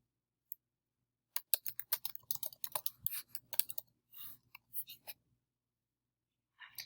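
Quiet, close computer keyboard typing in short irregular bursts of clicks, with a few isolated taps before and after.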